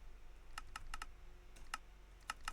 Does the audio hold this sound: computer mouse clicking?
yes